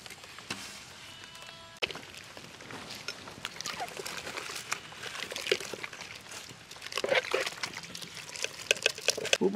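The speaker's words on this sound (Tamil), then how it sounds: "கறியை சேர்த்துக்கிறேன்ப்பா தண்ணியில்." Pieces of mutton go into a pot of water in a village kitchen while mutton kuzhi paniyaram is being cooked, giving soft splashes and trickling drips at uneven intervals, fairly close and otherwise quiet.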